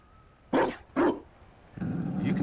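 A dog in the Dragon Age Inquisition video game growls and barks in two loud, close bursts, followed by a steadier rumbling growl that carries to the end.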